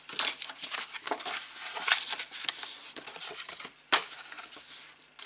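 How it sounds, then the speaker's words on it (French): Paper card creased along mountain folds while making a twist card, giving crisp crinkling and rubbing scrapes in quick uneven bursts, close and fairly steady, with a sharper crackle near the end. "on va marquer les plis côté montagne, toujours"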